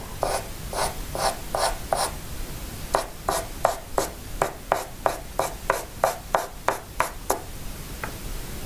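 A pinky finger smudging pencil shading on paper in a realistic coffee cup drawing, a series of short, soft, close rubbing strokes in a steady rhythm that grows quicker and more regular toward the end.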